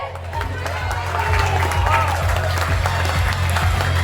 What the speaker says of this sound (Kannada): ಎಲ್ಲರಿಗೂ ಜೋರಾದ ಚಪ್ಪಾಳೆ.